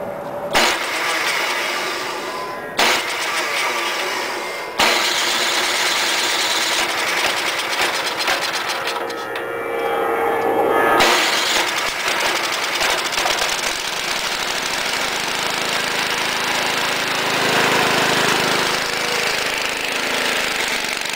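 An old Ariens engine with a loose throttle spring cranks and sputters through repeated start attempts, loud and close, with rough mechanical running and bursts of effort between brief pauses.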